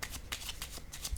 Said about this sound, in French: je vais piger maintenant une carte